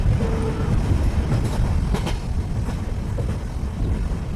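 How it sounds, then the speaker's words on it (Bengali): A train pulls into a station in an animated horror story, with a steady loud rumble of rolling wagons and faint clickety-clack from the wheels throughout. "ট্রেন স্টেশনে এসে থামল"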